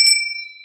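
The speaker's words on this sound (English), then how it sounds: "I've got the bell here." A single hand bell rings once with a bright metallic strike, its clear tone ringing on and fading slowly, heard alone before a children's welcome song at a church song time.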